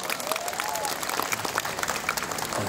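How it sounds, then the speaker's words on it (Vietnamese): Audience applause at a museum event, a steady wash of many hands clapping close by that fills the whole short stretch without a break. "Có thể cho những lời vừa rồi một tràng pháo tay thật lớn nữa được không ạ?"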